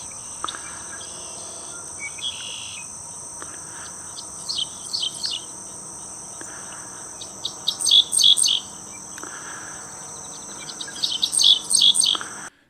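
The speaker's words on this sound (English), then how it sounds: "I had a good time trying to capture these birds this time, sitting there and singing to" Wild birds sing in open Texas countryside, their bright chirps and trills arriving in scattered bursts over a steady, high insect drone, growing busier toward the end with no voices.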